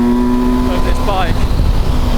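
A 2024 Kawasaki Versys 1000 S motorcycle engine pulling in third gear, a steady loud drone whose pitch rises as it accelerates, close with heavy wind rush, with no talking.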